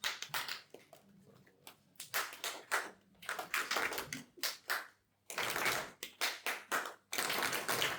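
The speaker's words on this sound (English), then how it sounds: "So you clap with me twice." Bursts of group applause come and go, several rounds of clapping separated by brief quiet gaps.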